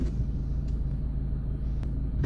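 A car pulling away in first gear rumbles low and steady as the engine takes up drive, close and fairly loud, with a couple of faint clicks and no talk.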